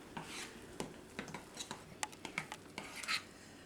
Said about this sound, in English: But I just keep stirring it